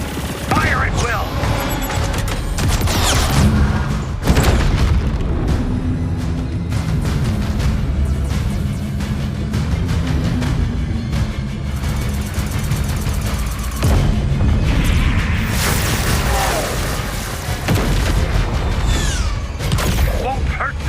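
A dense, loud barrage of gunfire and heavy booms rolls through a Chorus game cutscene for the whole stretch, with bursts of rapid fire and crashes layered over a constant rumble.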